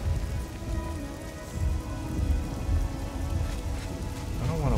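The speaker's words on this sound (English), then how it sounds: "I don't want to wait out in the rain." Steady, dense rain pours down in a video game scene, a constant close hiss of drops on surfaces with a low rumbling undertone, continuing without pause and with no voices.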